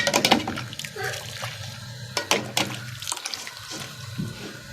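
Hot water poured into the detergent drawer of a limescale- and mould-clogged washing machine, a splashing liquid rush heard up close with brief surges, partly under quiet talk.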